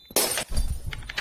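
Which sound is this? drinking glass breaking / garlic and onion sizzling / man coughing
drinking glass breaking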